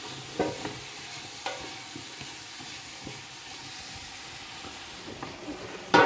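Vegetables for couscous sautéing in a pot while being stirred: a low, steady sizzle with soft scraping and clinking of the spoon at irregular intervals, close by and without speech.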